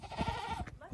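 A male goat, just back from a rental stint at an elementary school in the countryside, gives a short, nasal bleat lasting about a second, close and fairly quiet.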